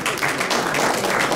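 A crowd at a youth night event in Mali applauding, a dense, continuous wash of clapping that stays loud and even throughout with no clear voices.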